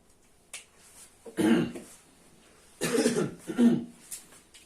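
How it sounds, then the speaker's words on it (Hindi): A man coughs from a dry throat after long lecturing, in two separate bursts, the second a cluster of harsh coughs, close to the microphone in an otherwise quiet room. "लगातार बोल रहे हैं तो खांसी चालू हो जाती है"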